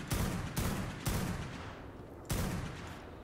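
Gunfire in the survival game Ark: Scorched Earth: four loud, close shots with heavy rumbling decays, three fired in quick succession and a fourth after a short pause, no voices.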